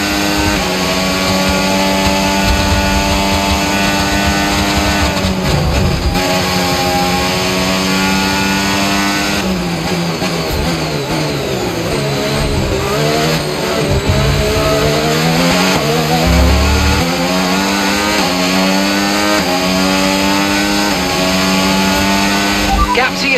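A Formula 1 car engine in the racing game F1 25 at Suzuka screams loudly and continuously, its pitch climbing and dropping through gear changes as the car accelerates and brakes. A voice speaks over the engine.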